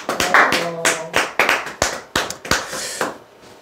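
Scattered, uneven clapping from a small audience at an insurance telemarketing sales lecture, each clap sharp and close, trailing off raggedly after a few seconds.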